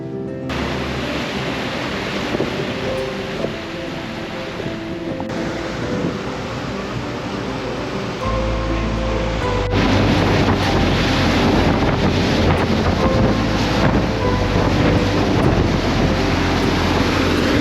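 A powerful cruise boat on the Gordon River in Tasmania rumbles with a deep engine drone under heavy wind buffeting and water rush, growing louder as the boat picks up speed partway through.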